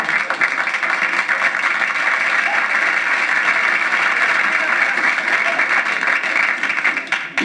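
A live audience at a 1968 Flip Wilson comedy performance claps in a sustained, dense wave of applause that holds steady and then tapers off near the end.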